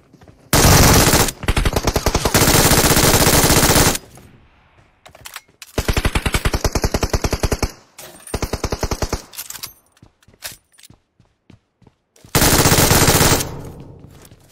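Machine gun fire in a video game comes in several long, loud sustained bursts separated by short pauses, with a few shorter rapid volleys in between and no talking.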